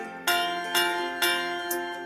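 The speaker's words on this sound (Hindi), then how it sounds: "सुनो घंटी बजी स्कूल की" A school bell in a song strikes four times in a steady rhythm, each bright metallic clang ringing out and fading before the next, loud and close over sustained musical tones.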